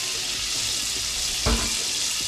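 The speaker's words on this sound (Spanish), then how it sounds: "Ahí lo vamos friendo el ajo" Garlic frying in achiote oil for shrimp soup gives a steady, close hiss of sizzling oil, broken midway by a single louder thump or clink.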